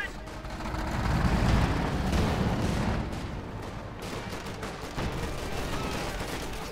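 Light machine gun fire rattles amid rumbling battle noise in the Company of Heroes 2 video game, a dense, continuous mix of shots and booms with a voice talking over it.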